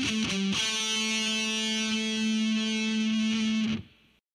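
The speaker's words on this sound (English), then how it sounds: "Now sped up with palm muting." A heavy metal lick on distorted electric guitar in A pentatonic minor with palm muting, quick picked notes at the start settling into a long held buzzing tone before stopping abruptly.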